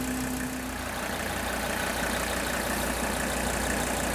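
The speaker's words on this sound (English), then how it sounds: "I want you to listen to the engine." A Mercedes W116 300SD diesel engine idles after a fuel-system purge, a steady close clattering drone with an even, unbroken rhythm and no voices.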